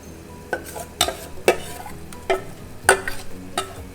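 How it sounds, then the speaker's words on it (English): Batter for Golyachi Aamti goes into a hot pan, giving a soft sizzle broken by several sharp clinks and scrapes spaced about half a second apart, close by and with no talking. "Now it's time to add our batter that we had made"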